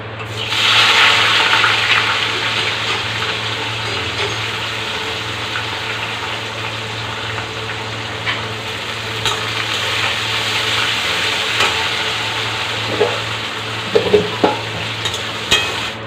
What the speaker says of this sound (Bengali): পেঁয়াজ ভেজে নিয়েছি